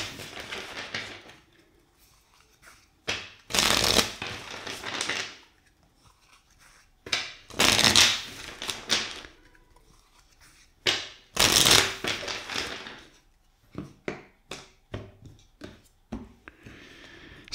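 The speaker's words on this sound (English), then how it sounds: "let's shuffle four times" Tarot cards shuffled in several distinct bursts of riffling, each lasting about a second, separated by quiet pauses and softer handling rustles, close and fairly loud.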